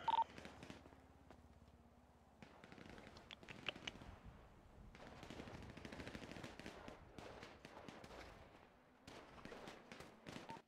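Video game firefight: bursts of automatic gunfire and rapid shots from a fight on the floor below, dense and continuous across most of the stretch with brief lulls, sounding mid-distance and muffled.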